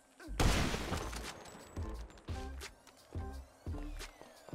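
Sniper rifle shots in the video game GTA 5 boom out one after another: a loud blast followed by about four more heavy shots at steady intervals, each with a short echoing tail.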